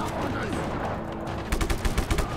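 Gunfire in the open-world action game Just Cause 3: a rapid automatic burst of close shots near the end, rising out of a busy game soundscape.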